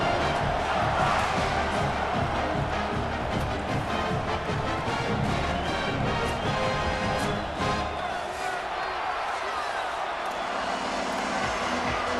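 A home crowd of South Carolina Gamecocks fans roars steadily inside a packed college football stadium before a kickoff against Kent State, a dense, loud wall of cheering that holds throughout and eases slightly near the end.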